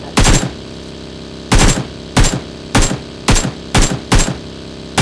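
Gunfire in the mobile battle royale game PUBG Mobile, seven loud sharp bursts of automatic fire, each short and close, spaced at irregular intervals with brief quiet gaps between them.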